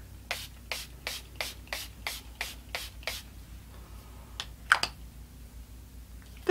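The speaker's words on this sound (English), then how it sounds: "I forgot to put on my finishing spray, so stand back." Makeup finishing spray pumped in a quick series of about a dozen short, hissing spritzes, close and evenly paced, then a few more scattered bursts.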